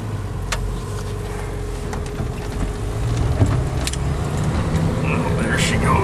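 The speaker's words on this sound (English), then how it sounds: "I don't know if this Jeep can cut through there or not." A Jeep fitted with a snow plow drives steadily through deep snow, its engine droning continuously up close and swelling partway through as it pushes into a drift, with occasional scraping and someone talking over it.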